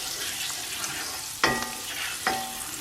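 Mushrooms fry and get stirred in a pan, a soft continuous sizzle with two distinct clinks of the spatula against the pan at close range.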